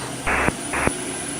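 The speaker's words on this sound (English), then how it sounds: "that was a good start for our APU" An aircraft auxiliary power unit starting up on a small jet before engine start, heard as two short broadband whooshing bursts about half a second apart over a steady background hum.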